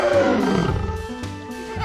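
A cartoon frog trying to roar like a lion, a loud close roaring growl that sweeps downward, a voice imitating a big cat's roar.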